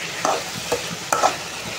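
Potatoes with turmeric and salt frying on a high flame to dry off their water: close sizzling with three distinct bursts of spatula stirring and scraping over a steady frying hiss, no voices.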